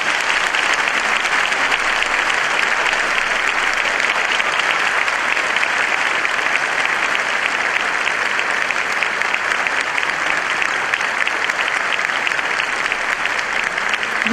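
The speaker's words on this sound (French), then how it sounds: "On va donc lui donner un grand applaudissement." Loud, sustained applause from a church congregation fills the whole stretch, a dense even wash of clapping without pauses or speech over it.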